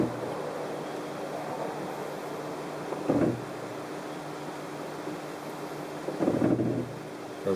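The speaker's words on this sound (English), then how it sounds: "just letting the car roll, you're going to hear that creak" Brakes on a car creaking as they are released, two short groaning creaks about three seconds apart over a steady low rumble, with no talking.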